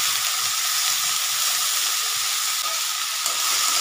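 Cut potatoes and snake gourd hit hot oil in a kadai on a gas stove, giving a loud, steady, close sizzle that holds without a break and has no voices over it.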